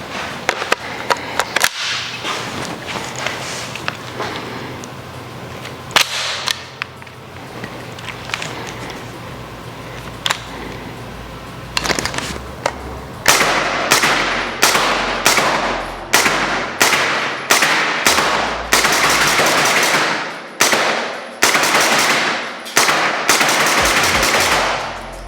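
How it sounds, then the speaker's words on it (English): A suppressed HK SP5 fires Federal Syntech 150 ammunition, first in scattered single shots, then in quick rhythmic strings of sharp, loud, clipped reports with brief gaps between bursts, no talking. "As you can see, guys, shooting this SP5 suppressed is a dream."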